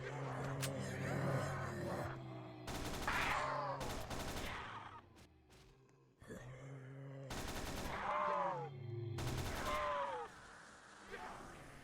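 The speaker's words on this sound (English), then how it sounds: "It was the standard issued Soviet Infantry light machine gun used in World War II." Bursts of automatic fire from a DP-27 Soviet light machine gun in the Roblox game Project Lazarus, several loud volleys of a second or so each separated by short pauses, with game noise and groaning creature sounds between them.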